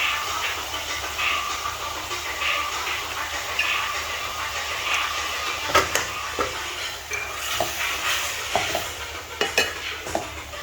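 Squid pieces cooking with a little turmeric powder in a pan, a constant wet sizzle with scraping stirs and clinks of a utensil against the metal growing more frequent toward the end.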